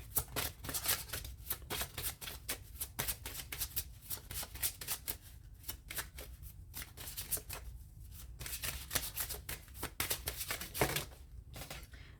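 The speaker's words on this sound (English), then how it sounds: "I'm just gonna shuffle this deck a little better." Rapid riffling and flapping of a deck of tarot cards being shuffled repeatedly, close up, in quick bursts with short pauses between.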